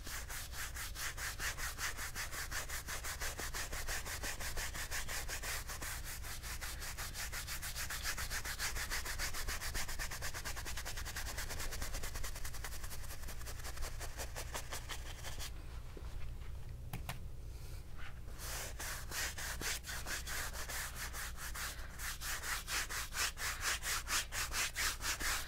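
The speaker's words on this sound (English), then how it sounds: "I'm just going to scrape in some color." Palette knife scraping dark gray paint onto a canvas for an alien mountain landscape, a steady close rubbing and scraping that runs continuously with a brief quieter break partway through.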